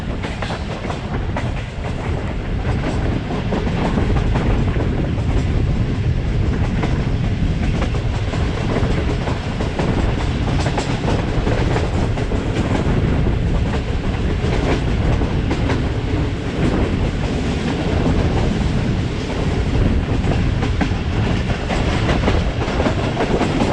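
The Fareed Express rumbles loudly through a green platform station with continuous clickety-clack of wheels on rails and a dense roaring wash of noise, sustained and close throughout with no voices.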